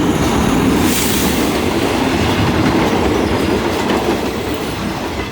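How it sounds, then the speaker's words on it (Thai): Train number C138 rolls past close by, a loud continuous rush of wheels and clattering railcars that holds steady for several seconds and eases slightly at the end, with no voices. "มาดูทะเบียนหมายเลขกันนะครับ หมายเลขรถไฟ หมายเลข C138 นะครับ"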